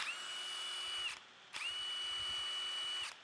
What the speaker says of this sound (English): You're gonna hit the drill, spin it up.